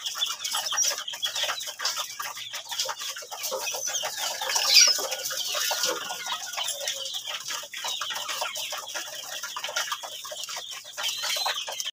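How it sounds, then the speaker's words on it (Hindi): Ducks eating grain: dense, continuous quick pecking and dabbling at close range, with occasional soft quacks and a brief louder call midway. "माशाल्लाह से फुल शौक से खा रही है डक्स हमारी।"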